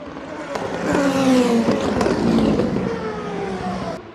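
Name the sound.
race cars entering the chicane fast at 24 Hours of Le Mans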